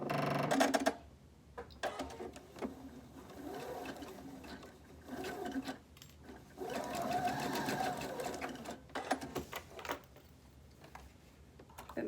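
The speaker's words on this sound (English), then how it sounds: "We're just going to sew over these elastic pieces right here." A sewing machine stitches over elastic pieces on a fabric face mask with a pocket, running in several loud bursts of fast, steady whirring with brief pauses between, close up.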